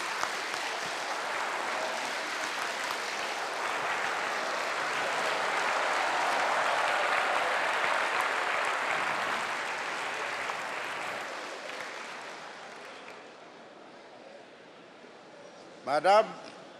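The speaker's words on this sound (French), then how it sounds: "Un standing ovation pour saluer" A hall at a ceremony in Yamoussoukro honouring Angela Merkel rises in a long standing ovation, broad sustained clapping that swells and then fades. A voice follows briefly after the applause dies down.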